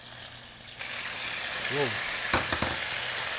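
Shrimp frying in a hot pan for a Thai chicken stir fry at a fire station, with a constant loud sizzle and brief crackling splatters while voices exclaim.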